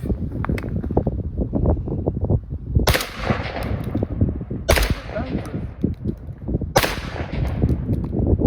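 A Remington Sportsman 16-gauge semi-automatic shotgun firing high brass upland game loads outdoors: three loud, sharp blasts spaced about two seconds apart, over steady wind noise on the microphone.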